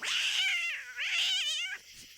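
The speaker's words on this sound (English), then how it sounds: "It was Grandma's gross cat." Grandma's cat lets out two loud, drawn-out screeching yowls with wavering pitch, close and harsh, followed by a brief quieter pause.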